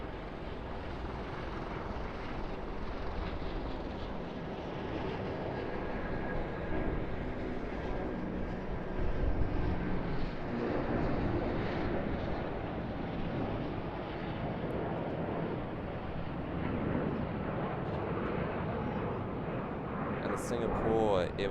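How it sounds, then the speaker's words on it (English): An AirAsia X Airbus A330-300 departs Sydney Airport, its jet roar a broad, steady rumble that holds strong for the whole stretch, with a voice talking faintly over it. "Asia X, Airbus A330-300 heading off to Kuala Lumpur."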